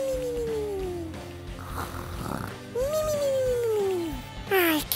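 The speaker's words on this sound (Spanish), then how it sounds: "¡Ay, qué bonito roncan!" Cartoon baby dinosaurs snore in a children's animation, drawn-out, warbling, gliding tones, some descending and some rising, layered over a soft background bed.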